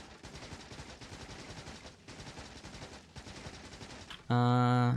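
Rapid automatic gunfire in Factorio cuts down trees, a dense continuous rattle of shots for several seconds that ends in a sudden loud tonal game sound.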